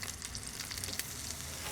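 Halwa sizzling and frying in a pan, a steady, close, crackling hiss without pause.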